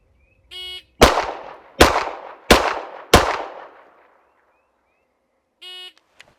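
Four sharp Beretta pistol shots fired in a timed test run, evenly spaced about 0.7 seconds apart, each loud and ringing with a decaying echo, with short electronic timer beeps before and after the string.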